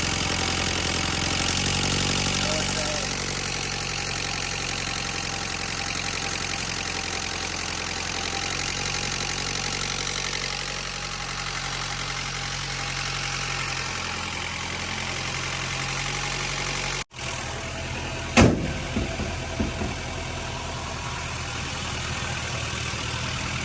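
An Acura Integra GSR engine with a power steering leak idles steadily after warming up, a close, even hum that stays unchanged until a brief dropout followed by a couple of knocks near the end.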